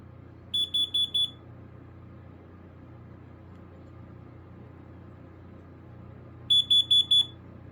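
Kidde KN-COPP-3 carbon monoxide alarm sounding two bursts of four sharp, shrill beeps, one near the start and one near the end, over a low steady room rumble with no talking.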